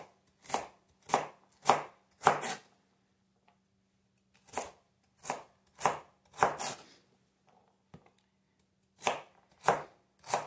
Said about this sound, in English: And start chopping.